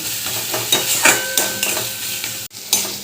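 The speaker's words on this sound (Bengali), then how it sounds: "এবার সব কিছু ভালো করে নাড়াচাড়া করে নিয়ে একটু শুকনো শুকনো করে নিতে হবে" Gourd leaf paste being stirred in a dry pan as it fries, with a steady low sizzle broken by repeated scraping strokes of a spatula, close and fairly loud.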